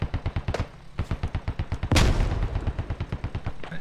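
Steady, rhythmic rifle fire in the military shooter game Squad, a fast string of evenly spaced shots punctuated by one heavier boom midway.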